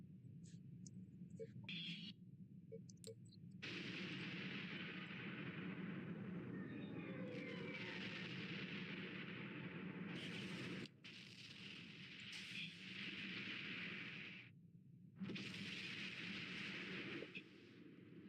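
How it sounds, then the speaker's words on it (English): Ancient monopole cannons exchange fire between starships in the space combat game Bridge Commander: sustained roaring, hissing blasts that swell and cut off in long bursts over a low rumble, with a voice talking faintly underneath. "Ancient monopole cannon versus ancient monopole cannon"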